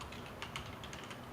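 Computer keyboard keys are tapped in a quick, light run of clicks, faint and close, with no talking over them.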